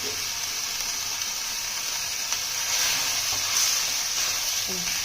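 Ginger, garlic and dried chili paste sizzles steadily in a hot pan for khichuri, a bright continuous frying hiss close by with slight swells and a few faint clinks, no talking.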